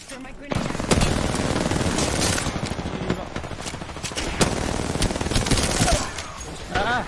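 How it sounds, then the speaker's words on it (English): Dense automatic gunfire in the video game Apex Legends, rapid loud bursts rattling almost continuously for several seconds, with a player's voice talking over the shooting. "I'm taking fire, friends."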